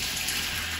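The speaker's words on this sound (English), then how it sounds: "So carefully, water goes in" Water is poured into a hot pan of pork and prawn potstickers, a steady, loud rush and sizzle that holds evenly for under a second.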